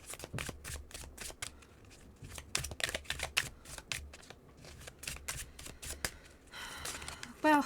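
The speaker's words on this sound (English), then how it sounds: "Excessive shuffling." Tarot cards are shuffled at length at close range, a run of sharp papery flicks and riffles in uneven clusters, ending in a louder burst, with faint background voice.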